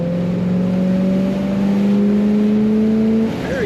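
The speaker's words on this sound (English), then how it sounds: "Good throttle response, and the kickdown working on the automatic transmission" A 1962 Mercury Monterey S55 hardtop with an automatic transmission revs loudly and steadily, its engine note climbing, then drops sharply near the end as the kickdown shifts.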